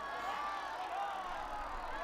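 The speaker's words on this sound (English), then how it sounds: "The crowd is on its feet." A crowd cheers at a Quidditch match in a Harry Potter video game, a steady, dense roar of many voices that holds at an even level throughout.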